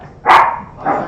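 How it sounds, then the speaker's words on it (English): A dog barks twice in quick succession, a sharp loud bark followed by a softer second one, close by. "Oh, that was a bark, not a sneeze."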